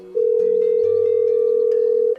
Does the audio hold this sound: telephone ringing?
yes